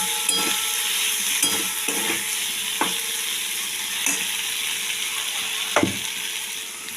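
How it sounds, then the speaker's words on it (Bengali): Masala for matar paneer fries in a pan with a steady close sizzle, broken by several sharp scrapes and knocks of a spoon stirring against the pan. "মশলাটা প্রায় ভাজা ভাজা হয়ে এসছে"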